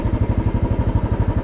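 A Royal Enfield Bullet 500 motorcycle engine thumps steadily while riding through downtown New York City in cold weather, with a close, even, rapid pulse continuing throughout.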